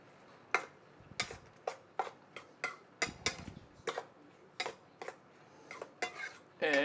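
A utensil clinks repeatedly against a bowl while crab meat omelette ingredients are mixed, giving about fifteen sharp, evenly spaced taps and scrapes, close and fairly quiet.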